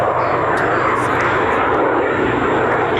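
An RAF Eurofighter Typhoon jet makes a slow pass at an airshow at IWM Duxford, a loud, sustained roar of jet engines that fills the air without letup, close and overpowering.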